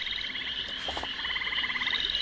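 Frogs croak steadily, a rapid pulsing chorus of trilling calls close by and continuous throughout, with no talk over it.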